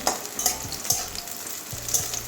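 Bitter gourd slices frying in oil until lightly reddened, with a steady sizzle, punctuated by several scraping stirs of a spatula against the pan.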